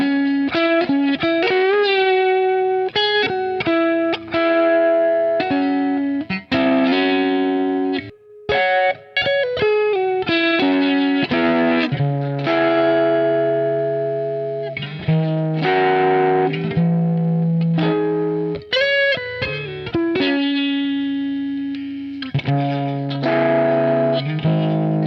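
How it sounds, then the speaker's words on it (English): An electric guitar played through a P90 pickup alone, a distorted, effects-laden run of picked notes and chords that is loud and close, with brief pauses between phrases. "my favorite sound still has got to be this P90 alone."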